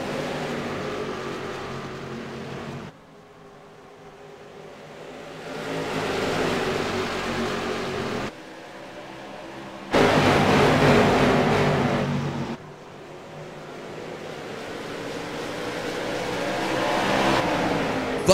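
Late model stock cars roar away together at the green flag of a short-track race, engines loud and sustained with rising revs and surging waves as the pack passes, no talk audible.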